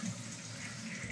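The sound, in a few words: water flowing fast from pressurized toilet plumbing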